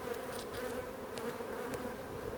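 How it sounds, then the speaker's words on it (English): A dense, steady hum of many bees buzzing together inside a hive, constant and close, with no talking. "there's a lot of bees in there"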